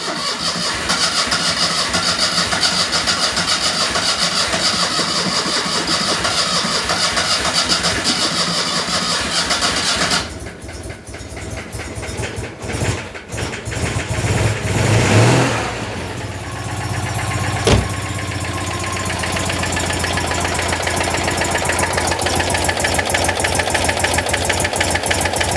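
A carburetted car engine cranks at length with a dense, steady churn, falls quiet in a brief ragged gap, then catches and settles into a steady, close idle with some clatter, alone with no talk.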